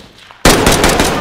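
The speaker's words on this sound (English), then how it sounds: "Gunfire will alert you to an enemy's presence." A sudden loud burst of rapid automatic gunfire in a first-person shooter game, starting abruptly after a near-silent moment and continuing as a dense, close rattle.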